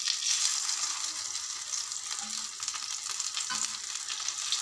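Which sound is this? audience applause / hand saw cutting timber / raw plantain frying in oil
raw plantain frying in oil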